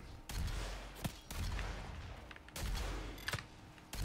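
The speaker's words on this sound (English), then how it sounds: "I'm going with shotgun on this" Shotgun blasts in DOOM multiplayer, several heavy booming shots spaced about a second apart, each followed by a short tail, amid constant low game rumble and effects.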